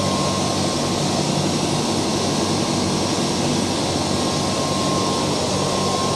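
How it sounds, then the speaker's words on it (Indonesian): A Mitsubishi FA20 wire EDM cutting machine runs steadily in a workshop, giving off a constant, even mechanical hum and whir with a faint high tone and no breaks, and no one speaks. "Mesin wire cut ya?"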